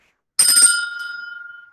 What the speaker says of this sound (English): I'm gonna shake the bell to let spirit in